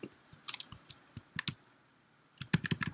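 Keyboard shortcuts tapped on a computer keyboard come through as quiet, irregular clusters of soft key clicks, with short pauses between bursts and a quick flurry of presses at the end.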